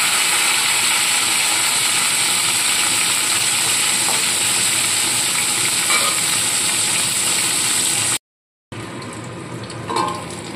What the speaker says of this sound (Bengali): তেলটা ভালো মতো গরম হয়ে গেছে, এবার মাছগুলো ছেড়ে আমি ভেজে নেব।